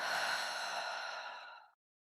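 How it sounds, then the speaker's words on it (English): A single slow, airy exhale that lasts almost two seconds, close and soft, fading out gently into silence. "let's let the exhale be slightly longer than your inhale"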